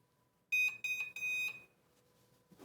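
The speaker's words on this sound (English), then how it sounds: "when the timer is done, it will alert us" A heat press timer finishing a 60-second press at 400 degrees gives a loud, shrill electronic alert in several quick pulses, the last one held a little longer, then the room falls quiet.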